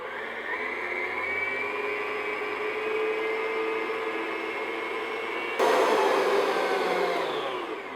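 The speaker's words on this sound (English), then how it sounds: "start your mixer on low and then kind of gradually move it up." An electric mixer whips cream toward soft peaks for no-churn vanilla ice cream, a steady close motor whine that jumps louder as the speed is raised near the end.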